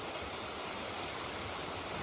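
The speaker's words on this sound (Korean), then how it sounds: "층층나무꽃 너머로 멋진 폭포가 보이는군요." A waterfall in a mountain valley among flowering dogwood, giving a steady, even rush of falling water from some distance, with no voices.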